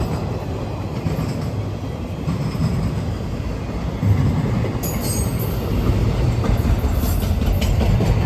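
A heavy Norfolk Southern freight train rumbles and clatters steadily close by as it pulls out, with rail noise and faint metallic squeals building slightly as it gets moving.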